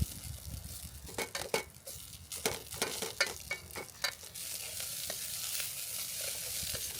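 Vegetables sizzle in a pan on a camping stove on a farm in the hills of North Wales, while a utensil scrapes and stirs them in an irregular clatter. A steady frying hiss runs underneath throughout.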